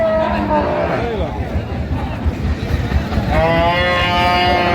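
At a busy Dinajpur cattle market, dairy cows and calves give a couple of long, wavering moos near the start and end, mixed with nearby voices and crowd murmur.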